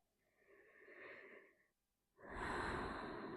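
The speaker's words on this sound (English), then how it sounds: "Let's take 2 more deep breaths here." Two slow, deep breaths during a gentle yoga flow: a softer, airy inhale followed by a brief pause, then a fuller, louder exhale rushing out close to the mic, with no talking.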